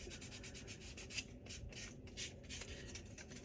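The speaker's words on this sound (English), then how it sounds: "just so you don't have to sit here and watch me sand" Hand sanding on a primed surface gives a steady, close, rhythmic rasping of quick back-and-forth strokes, heard alone and fairly soft.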